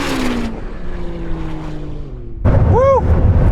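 Ferrari SF90 accelerating hard in a drag race, a steady loud engine drone with a falling tone, then a sudden louder burst of rising whine as it pulls away.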